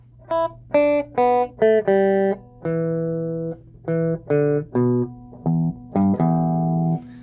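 An electric guitar plays a quick run of separate picked notes, short phrases with small gaps, clean and close, with no voices.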